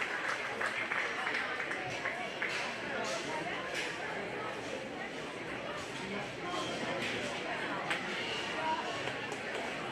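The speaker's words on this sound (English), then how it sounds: "give a round of applause to all these little anchors and their exhibitors" Applause for a class of pigs and their young exhibitors at a 4-H/FFA swine show ring, a faint, steady patter of clapping from a scattered crowd with indistinct chatter underneath.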